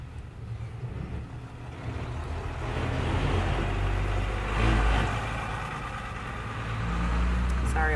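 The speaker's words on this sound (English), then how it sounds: "There's going to be a loud truck coming by because I'm in my outdoor studio." A loud truck rumbles past an outdoor studio, its engine swelling steadily into a broad, heavy roar over several seconds and holding near, with no clear voices.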